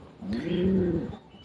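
A single soft, throaty coo comes from a racing pigeon during truck training for a derby in Santo Tomas, Batangas, Philippines, heard close and alone and lasting about a second.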